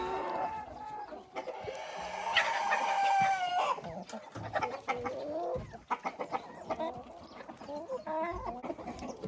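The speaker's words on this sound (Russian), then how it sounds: "Видите, что творится в курятнике, когда они увидели, что есть буряк у кого-то?" Hens clucking and roosters crowing inside a chicken coop, agitated over beets, with a loud close crow rising then falling amid busy overlapping clucks and squawks.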